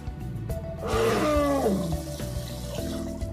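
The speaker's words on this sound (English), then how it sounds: "C, provided that your Olfend has water in its tank, is a spray." An Olfend creature in the video game Ark sprays water from its tank: a broad hissing gush swells in mid-clip, and a descending creature cry sits over steady low game ambience.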